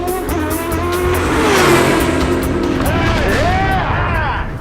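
A modern Formula 1 car engine, built to rev above 18,000 RPM with over 700 horsepower, screams loudly and continuously with rising and falling pitch sweeps as it revs, while someone talks underneath.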